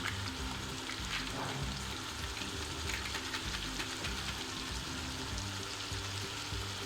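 Beef keema biryani masala with green chillies and biryani spice mix cooking in a pot, giving a steady, fairly quiet sizzle and bubbling throughout with no talk.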